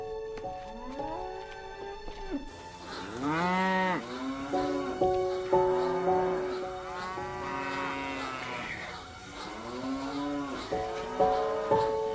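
Several cows moo repeatedly and close by, long drawn-out bellows overlapping one another over a steady background drone.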